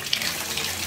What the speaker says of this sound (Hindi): अभी मैं बाल्टी में पानी भर लेता हूँ